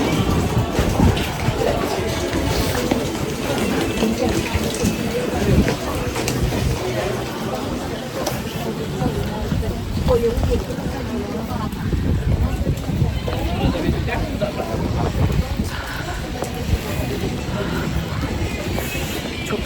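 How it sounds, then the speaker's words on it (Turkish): Blustery wind roars and buffets the microphone, with rain washing beneath, as a person talks in Turkish over the noise throughout, outdoors in Mostar or Sarajevo, Bosnia. "Çok hem rüzgar var hem yağmur var."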